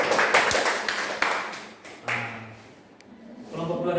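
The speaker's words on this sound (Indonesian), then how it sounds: "Tepuk tangan untuk kelompok 1." A classroom of students claps for the first group after its peer-teaching presentation: a dense burst of applause up front that thins out, then a few voices talking.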